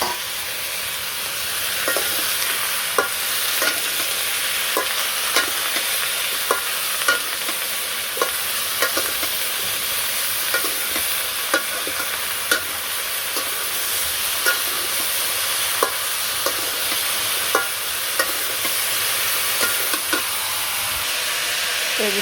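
Vegetables with potatoes, green chillies, turmeric and chilli powder sautéing in a pan, a constant close sizzle marked by regular light scraping stirs of a spoon throughout, no voices.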